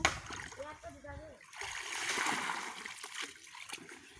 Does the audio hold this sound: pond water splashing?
yes